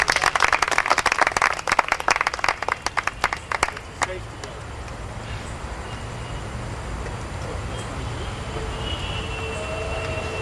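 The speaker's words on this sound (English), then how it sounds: "Can we have a huge round of applause" Applause from an audience at a product demo event, a dense burst of clapping for roughly the first four seconds that then stops, leaving low background rumble and room noise.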